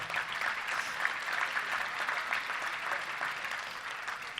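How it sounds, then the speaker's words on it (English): Audience at a Little Rock Touchdown Club luncheon applauding the event's sponsors, a steady wash of many hands clapping from the room, even and continuous for the whole stretch with no voices above it. "Let's give a big round of applause for all of our sponsors, if you will."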